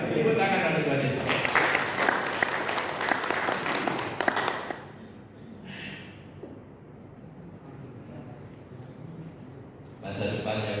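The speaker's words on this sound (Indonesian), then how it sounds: "Tepuk tangan pada Tuhan Yesus." A church congregation at a Sunday service claps hands together, a loud dense burst for several seconds that then drops away into quieter room sound, with a brief return near the end.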